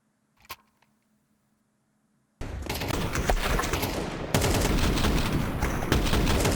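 Sustained automatic rifle gunfire from an AK in Counter-Strike during a pro esports match, rapid loud bursts starting after a near-silent stretch with one brief early pop, continuing densely to the end.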